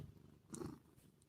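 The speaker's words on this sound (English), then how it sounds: "That's a good purring kitty." A pet cat purring close into a microphone indoors, a brief soft rumbling purr with a faint breathy swell lasting about a second.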